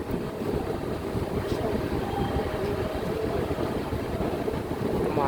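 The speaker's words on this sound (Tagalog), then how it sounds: "Malangit-ngit yung makina." Aboard a ferry loaded with trucks, the ship's engine produces a continuous heavy rumbling drone with a rough, grinding texture, steady and fairly close throughout.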